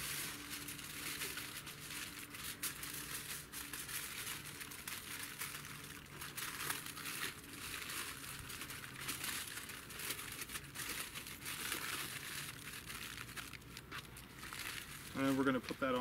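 Tin foil crinkles and crumples as it is folded around a barbecue-sauced dinner for outdoor cooking, a steady close rustling that runs throughout beneath a person speaking.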